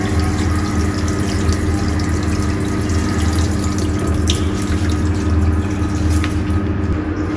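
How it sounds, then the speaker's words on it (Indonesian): Tap water runs steadily to rinse skin after a chemical spill, a continuous splashing hiss over a low droning hum, with no voices. "kita lakukan dengan membilas menggunakan air mengalir"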